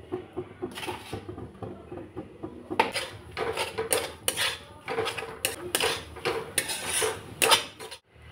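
A spoon scrapes and clinks around a pan as a filling of grated coconut, date jaggery and milk powder is stirred, with irregular nearby scraping strokes and clatter repeated steadily and no one talking.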